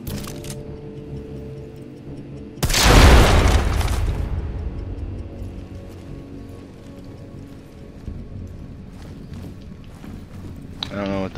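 A bomb detonates in a video game with a sudden loud blast that booms and decays over about a second, followed by quieter game ambience and scattered clicks and ticks.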